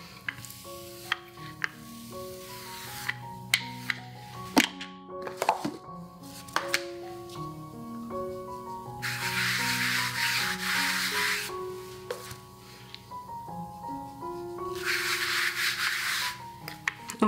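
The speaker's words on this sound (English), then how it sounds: "So we have to be a little bit patient with the rolling out of the dough." Speculaas cookie dough being rolled out on a work surface, soft rubbing and rolling strokes with occasional knocks, heard against a background of steady piano music.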